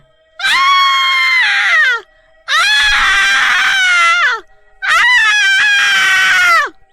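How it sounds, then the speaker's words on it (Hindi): A witch in a village horror story shrieks loudly in three long, sustained, wavering screams separated by short pauses, close and piercing with no talking. "सरपंच उस चुड़ैल पर छिड़क देता है, चुड़ैल जोरों से चिल्लाने लगती है।"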